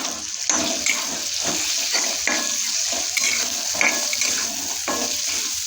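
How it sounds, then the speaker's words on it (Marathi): Paneer sizzles and spatters in hot oil in a home kitchen pan, a steady loud crackling hiss with repeated sharp pops and stirring scrapes. "तेलाला सुटलेला आहे पनीर टाकून घेऊया पनीर टाकलं बघा"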